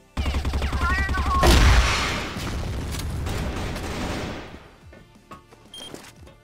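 Gunfire in the shooter game CrossFire during a ranked match, a loud burst of rapid shots and booming blasts with electronic effects that rings out and decays into scattered fainter shots and echoes.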